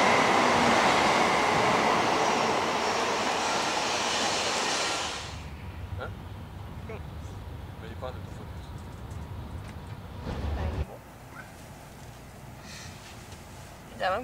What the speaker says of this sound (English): we are right now at the Shinkansen train station in Yokohama